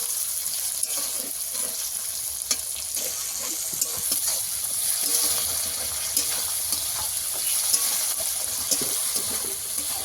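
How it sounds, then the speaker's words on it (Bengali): Onion, garlic and tomato fry together in a pan, giving a continuous close sizzle with scraping stir strokes and small crackles throughout, no voices over it. "পেঁয়াজ, রসুন আর টমেটো একসঙ্গে ভালো করে ভেজে নেব"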